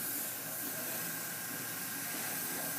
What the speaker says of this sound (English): this is going to kind of show you just how rapidly you can airbrush a body